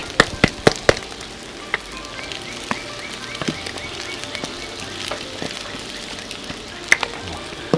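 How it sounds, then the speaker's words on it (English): Minced garlic sizzles in a hibachi-style stir fry on a Blackstone griddle outdoors at camp, a steady close frying hiss broken by several sharp crackles and scrape clicks early on. "I'm also going to throw in some minced garlic."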